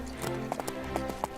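Cartoon horse hooves clip-clop in a quick, uneven pattern of hollow knocks, moderately close, over a soft ambient bed of background sound.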